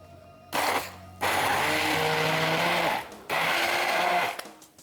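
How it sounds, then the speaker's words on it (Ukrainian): A handheld immersion blender whirs through paper pulp in water in three bursts, loud and steady, with brief pauses between them and a muffled churning tone. "зараз ми його в цій же ж водичці будемо збивати блендером"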